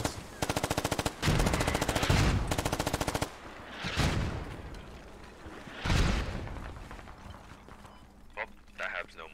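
Farmstead hab in the video game Squad under artillery shelling: rapid machine-gun bursts rattle for about three seconds, then two heavy, rumbling blasts land a couple of seconds apart.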